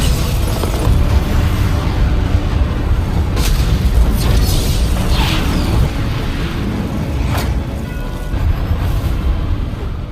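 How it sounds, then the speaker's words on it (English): A violent explosion in an animated space battle between spaceships, heard as a loud, sustained rumbling boom with scattered bursts and crackles running under the full length of the clip. "were also surprised by the violent explosion"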